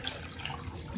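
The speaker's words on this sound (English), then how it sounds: "now we're gonna dump out all the water" Water poured out of a container into a sink, a steady, broadband splashing rush that runs continuously for the full second at close range.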